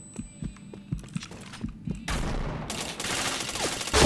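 Gunfire in a shooting video game: a loose string of single shots and thuds gives way to dense, sustained automatic fire that grows louder toward the end, with no talking.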